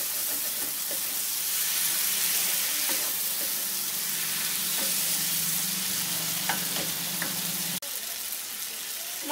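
Vegetables with spices being sautéed (kosha) in a pan for a Bengali prawn and kohlrabi curry, a steady close sizzle with occasional scraping stirs, continuous and fairly loud throughout.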